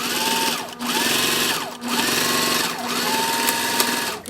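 Sewing machine top stitching a cotton and vinyl bag, running in three steady buzzing bursts separated by brief pauses, close and loud with no talk.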